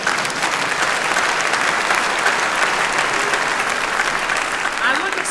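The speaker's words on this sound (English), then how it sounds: "You may applaud." A dense audience applauds at an MLK Jr. celebration in a synagogue, with loud, continuous clapping filling the room and murmuring voices mixed in.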